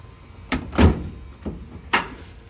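A slightly tweaked door on a restored Volkswagen Beetle-based panel van closes in a few close, sharp thuds and latch clicks, one heavier slam among lighter knocks, with no talk.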